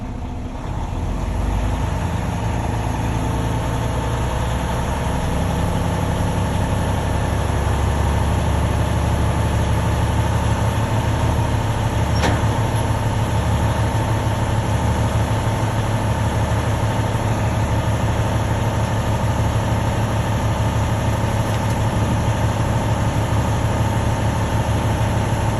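Truck engine idling steadily while the accelerator holds it at 1000 to 1500 RPM during an in-cab pre-trip check, a loud, even low rumble close by that continues without pause.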